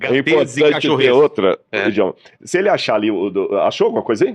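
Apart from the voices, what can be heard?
No everyday noises stand out.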